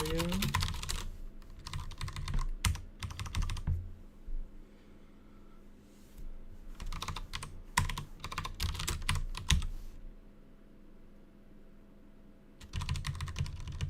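Fast clattering keystrokes on a computer keyboard come in several bursts, separated by short quiet pauses, close and fairly loud.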